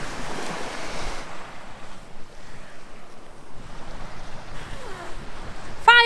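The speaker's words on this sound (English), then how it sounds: "this beach is amazing and so windy" Strong wind sweeps across a sandy beach in Greece, a steady, gusty roar that buffets the microphone, with a faint wash of surf underneath and no voices.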